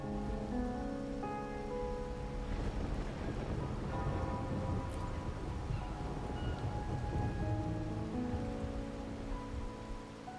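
Steady in-game rain patters across surfaces in a continuous wash, with a low rumbling swell like distant thunder building in the middle before fading, and faint tonal music underneath.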